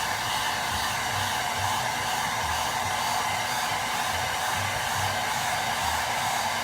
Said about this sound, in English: Got my little hair dryer here.